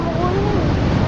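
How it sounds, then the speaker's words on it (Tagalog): Strong waves crash at a beach in a continuous loud roar of surf, close and full, with a voice talking over it. "Malakas yung alon, delikado."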